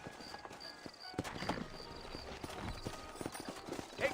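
Horse hooves clip-clop at a walking pace in a Western game, a series of moderate thuds that start sparse and become regular, close but fairly quiet, with some background ambience.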